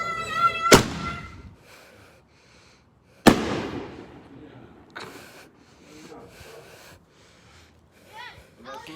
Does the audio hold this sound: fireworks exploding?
yes